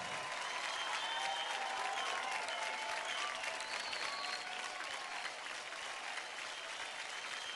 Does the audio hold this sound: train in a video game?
no